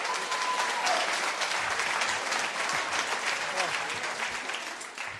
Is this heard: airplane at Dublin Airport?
no